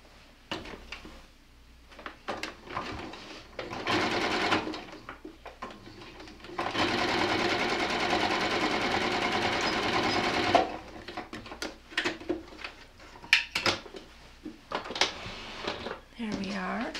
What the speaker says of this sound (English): all we need to do is take this to the sewing machine